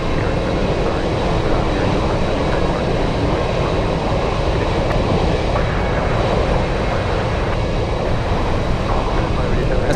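An SF Airlines jet at Anchorage airport in gusty winds sends a loud, steady engine roar over broad wind rumble, continuous and fairly near, with a voice talking over it.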